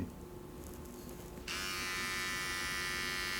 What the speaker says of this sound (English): It's a vibrator.